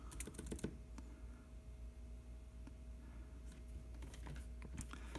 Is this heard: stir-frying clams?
no